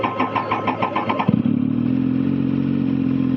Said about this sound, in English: Once my bike starts.